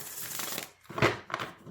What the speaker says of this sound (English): Love when I can get a good riffle shuffle out of a deck.